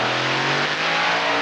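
A pulling tractor at a tractor pulling competition, its engine roaring loud and continuous with a sustained high-revving drone, no voices over it.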